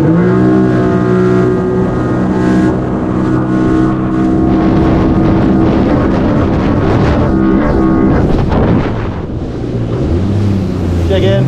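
A boat fitted with a Riva power intake runs steadily across flat water, its engine drone continuous and loud with wind buffeting the microphone throughout.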